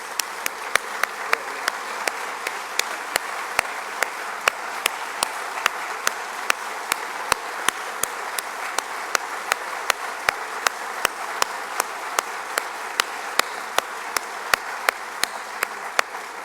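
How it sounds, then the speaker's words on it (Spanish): Applause for a youth symphony orchestra at an anniversary ceremony, heard as a soft, diffuse wash of clapping with sharp, regular clicks ticking steadily on top throughout. "despidámoslos con un fuertísimo aplauso"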